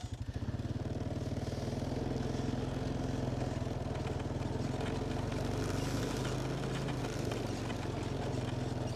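A four-wheeler ATV engine drones steadily and loudly while being driven across a farm field, its low throbbing rumble continuous and close throughout with no talking.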